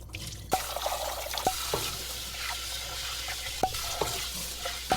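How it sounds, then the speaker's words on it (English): Cold running water pours and splashes steadily while rice grains are swished and stirred, with a few sharp clicks and knocks against a container. "We're gonna rinse it off using cold water."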